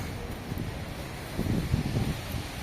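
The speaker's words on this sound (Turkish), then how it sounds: "Çok rüzgar var" Strong gusty wind buffets the microphone in a continuous low roar, swelling louder midway with rustling underneath.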